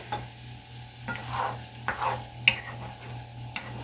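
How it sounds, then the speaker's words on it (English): Ground hamburger meat browns in a pan with a soft, quiet sizzle, broken by a few stirring scrapes and light clicks against a low steady hum. "I'm just going to get this browned up."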